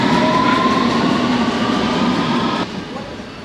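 A London Underground Circle Line train rumbles loudly and steadily at close range, with a sustained hum and rolling wheel noise that drops off sharply near the end.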